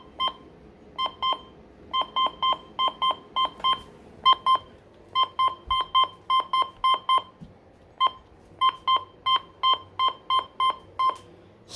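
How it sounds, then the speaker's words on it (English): Second button-beep set on a FirstAlert WX-150 weather radio: a long run of brisk, evenly spaced electronic beeps in clusters, close, crisp and steady, with no talk. "So yeah, those are the button beeps."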